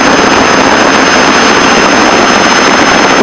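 A Piper Seneca twin-engine aircraft drones steadily in flight, with the left engine feathered and only the right engine running, heard as a loud, constant roar from inside the cabin.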